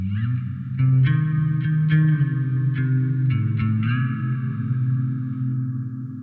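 Fretless bass played through a reverb effect in a rig-review setting, a sustained melodic line with sliding, vibrato-laden notes and several plucked attacks, each tone washing into a lush, chorused reverberant tail throughout.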